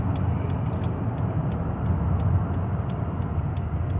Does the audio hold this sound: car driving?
yes